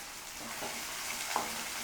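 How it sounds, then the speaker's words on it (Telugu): Thinly sliced onion pieces fry in a pan for a chicken pulusu, giving a soft, steady sizzle heard alone and fairly quiet. "ఈ ఉల్లిపాయ ముక్కలు బాగా ఫ్రై అవ్వాలి."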